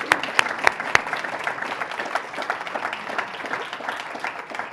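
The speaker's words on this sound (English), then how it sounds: "Can we give a round of applause?" An audience applauds after a talk about the port, opening with a few distinct close claps before swelling into steady, even clapping that holds at moderate loudness.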